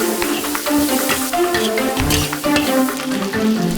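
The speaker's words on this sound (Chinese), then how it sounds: "将腊肉和萝卜干一起炒，是苗家最常见的食用方法之一。" Cured pork and dried radish stir-fry in a wok in a Miao home kitchen, with a continuous close sizzle and the scrape and clatter of stirring.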